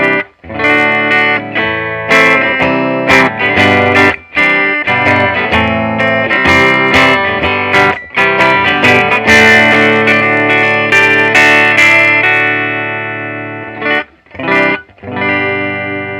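Sustained chords from a replica electric guitar ring out loud and close, with heavy effects and long decays, strummed in a slow pattern with brief pauses.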